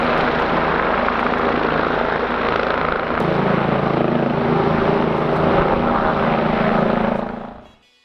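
A helicopter's loud, steady rotor and engine roar fills the air close by, holding strong throughout before cutting off quickly at the end.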